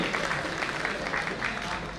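An audience gives a short burst of steady, dense clapping to welcome Jitubhai at a stage honouring ceremony, heard throughout the brief moment without any clear voice on top.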